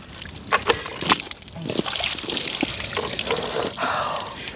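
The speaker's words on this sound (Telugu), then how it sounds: "చిల్డ్ వాటర్ బాత్ అన్నావు కదా ధీరజ్, నువ్వు చిల్డ్ వాటర్ బాత్ సార్." Ice-cold water sloshed and poured over a person in a chilled-water bath forfeit after an eating challenge, with a few sharp splashes followed by a longer, continuous pour.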